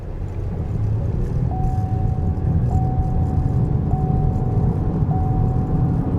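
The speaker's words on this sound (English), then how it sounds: "Very nice and crisp shifts. Through all the gears, we're in overdrive now." A Chevy, Buick or Cadillac with an automatic transmission drives along with a steady low engine and road rumble from inside the cabin, while a faint whine steps up in pitch in several even stages as the gears shift.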